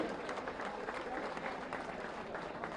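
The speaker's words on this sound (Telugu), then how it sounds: "అందరూ కరతాళధ్వనులతో ఆశీర్వచనం చెప్పండి" A crowd at a yagam ritual in Erravalli village clapping together, a continuous, muffled wash of applause that runs evenly, with some voices mixed in.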